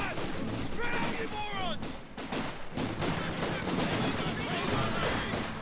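Mortar and gunfire in a multiplayer World War II strategy game clan match, a dense, continuous barrage of booms and shots with whistling shells, fairly loud throughout, while a commentator talks over it.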